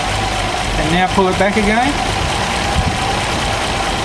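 A Holden 202 six-cylinder engine idles steadily on LPG and petrol settings, a low continuous rumble close by, with someone talking over it.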